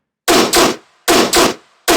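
Heavy tearout dubstep growl bass with its octave turned up gives a rusty, gritty tone, pulsing in loud paired bursts that repeat in a steady rhythm, alone.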